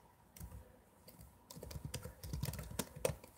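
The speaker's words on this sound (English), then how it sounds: "Sorry for the typing noise." Close, quiet typing on a computer keyboard: a steady run of irregular clicks and taps that grows busier toward the end.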